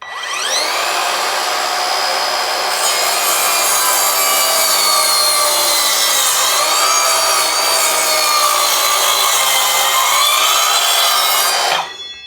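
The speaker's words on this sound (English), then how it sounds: "So the first cut I'm going to make is on an 8x2 planed all round." An Evolution R185SMS-Li 18V cordless sliding mitre saw cuts through planed all-round 8x2 timber, a loud, steady high-pitched blade whine that holds for about eleven seconds before cutting off abruptly.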